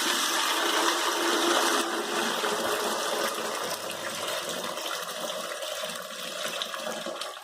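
Water pours out of a Gold Rush Nugget Bucket gold-panning bucket as it is dumped, a loud, continuous splashing rush that slowly eases over several seconds, with no talking.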